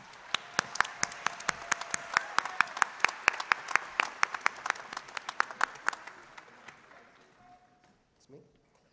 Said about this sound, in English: How about a round of applause for the students from the College of Business?